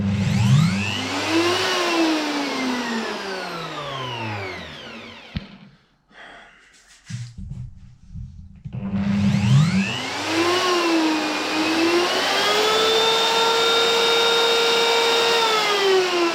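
An offcut of flame maple is run through a thicknessing jig by a power tool whose motor whines in rising and falling harmonic tones. Two long, loud passes are separated by a quieter pause of a few seconds.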